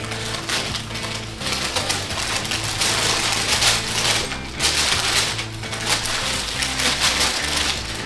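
New Tecovas Cartwright cowboy boots are unwrapped from their packaging, with continuous crinkling and rustling of paper and plastic, close and fairly loud, in irregular bursts of crackling handling noise.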